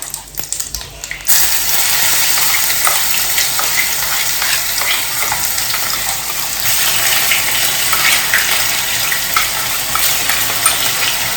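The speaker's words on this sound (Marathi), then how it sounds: "जिरे पूर्ण फ्राय झाले की लगेच पेस्ट टाकायची आहे ही" Cumin seeds with bay leaf fry in hot oil in a pan, giving a steady, loud sizzle that runs unbroken for about ten seconds after a quieter start.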